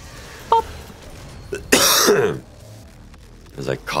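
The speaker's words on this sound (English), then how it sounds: "As I cough violently into the microphone." One harsh, loud cough bursts out close to the microphone, with a brief throaty rasp trailing off, then quiet again.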